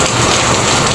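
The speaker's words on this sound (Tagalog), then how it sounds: "Ayun, umuulan na ngayon guys." Heavy rain pours down in the Philippines in a dense, loud, continuous hiss, drumming steadily on a surface with no pauses.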